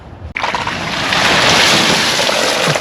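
Water pours heavily off a shack roof like a waterfall, a loud, steady rushing wash that starts abruptly and roars on without pause.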